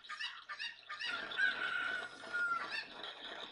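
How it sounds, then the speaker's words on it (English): Chicken clucking and crowing sounds from the video game The Legend of Zelda: Ocarina of Time, a string of close, loud squawks and clucks running steadily through the whole stretch with no talk over them. "Come here, chicken."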